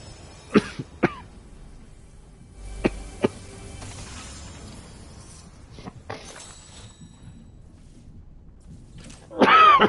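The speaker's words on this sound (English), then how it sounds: "I'm hoping this cough calms down by tomorrow." A man at his gaming setup coughs several times in short, sharp bursts, close to the microphone, between quiet stretches, with a louder rough noise at the very end.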